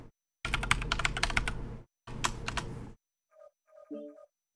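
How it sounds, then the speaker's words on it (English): Fast typing on a computer keyboard, two dense bursts of rapid close key clicks separated by a short pause, followed by a few faint softer electronic tones. "Let's get this all typed in real quick."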